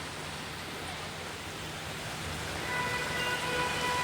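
Continuous heavy rain pours down during monsoon flooding and waterlogging in Mumbai's Dadar and Sion area, a dense steady hiss that holds throughout and swells slightly louder toward the end, with no voices.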